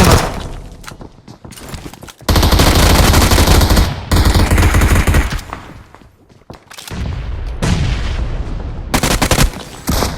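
In PUBG Mobile, machine gun fire erupts in loud rapid bursts, with a long sustained volley and shorter strings of shots separated by brief pauses.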